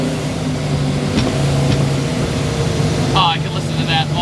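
A 620 hp Mystic Cobra's supercharged stroker engine, with a twin-screw Eaton blower, rumbles steadily with a deep exhaust drone, a brief higher whine rising near the end.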